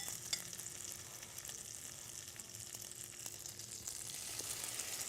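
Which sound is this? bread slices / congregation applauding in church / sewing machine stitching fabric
bread slices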